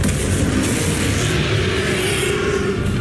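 Loud, dense blasting explosion from the Confringo spell in Hogwarts Legacy during a final boss fight, a continuous booming roar with crackling bursts sustained throughout.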